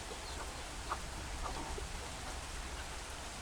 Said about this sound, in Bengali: তো ভালোই বৃষ্টি হইতেছে